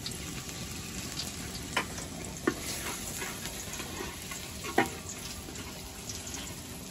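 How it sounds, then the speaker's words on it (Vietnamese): Sea bass sizzles and spatters steadily in a hot frying pan, loud and close, with occasional sharp pops and clicks from the cookware. "Vừa bắt chảo lên, chiên"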